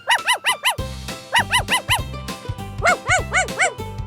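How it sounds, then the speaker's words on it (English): A dog barks in quick bursts of three or four sharp yips, repeated several times in a steady rhythm, close and loud over a bouncy backing tune. "Dog,"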